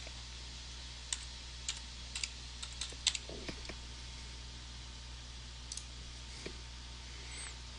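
Fingers tap a transaction PIN into a device keypad for an e-wallet payment, producing a short burst of quiet key clicks over steady background hiss, then a couple of isolated taps.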